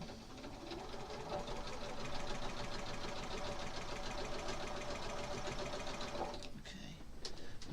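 A sewing machine runs steadily at close range stitching a quilt seam, a continuous rapid whirring chatter that stops near the end, followed by a few faint clicks.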